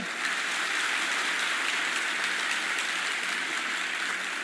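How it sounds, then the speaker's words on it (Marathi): An audience at a public talk claps loudly, a continuous, dense roar of applause that stays even and full throughout with no voices over it. "पुन्हा तुमचा आवाज आला पाहिजे जोरदार टाळ्या वाजवायचा एकदा"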